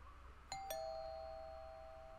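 A doorbell in the horror video game Fears to Fathom gives a two-tone ding-dong chime, the second tone ringing out and slowly fading in a quiet room.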